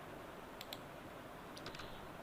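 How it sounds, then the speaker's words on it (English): Computer keyboard keys pressed a few times while working in circuit simulation software, small soft clicks in two brief clusters over steady faint background noise, no talking. "Press R in your keyboard, and so it will rotate."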